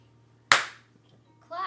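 A single sharp hand clap, close and loud, with a short decaying tail. A brief voice starts right after it.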